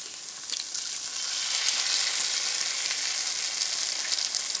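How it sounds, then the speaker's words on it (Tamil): Eggs sizzle and fry steadily in a hot pan while a vegetable dish is cooked, a dense, even crackle that grows a little louder after the first second and continues without talk. "முட்டை உடச்சி ஊற்றிக்கலாம்."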